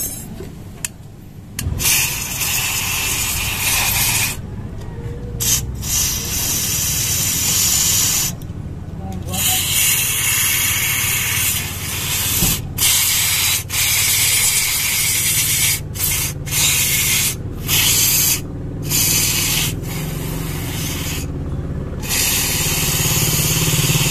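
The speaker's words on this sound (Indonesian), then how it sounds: "Untuk bagian depan kita bisa semprot bagian sini" Cleaner is sprayed in long, continuous hissing bursts onto parts of a fuel-injected motorcycle, close to the microphone, separated by short pauses with a few brief gaps of quiet.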